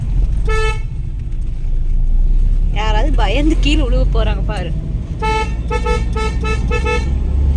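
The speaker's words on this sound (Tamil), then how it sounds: "ஏய் நவுறதுக்காக ஹாரன் அடிக்கிறேன், உனக்கு ஒன்றும் ஹாரன் அடிக்கல." A loud car horn toots in short blasts, then a longer honk sequence; a person speaks between the honks over steady engine rumble.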